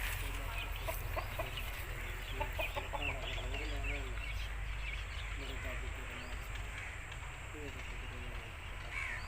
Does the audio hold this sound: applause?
no